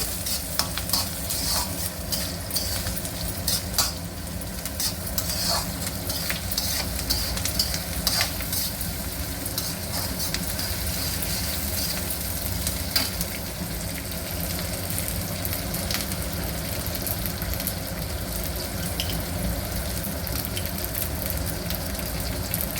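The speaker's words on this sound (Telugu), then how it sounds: "కరివేపాకు, కొంచెం ఆనియన్ ఫ్రై కావాలండి." Curry leaves and chopped onion frying in a pan for Telangana-style aloo barada, a steady close sizzle with intermittent stirring scrapes running throughout, no voices.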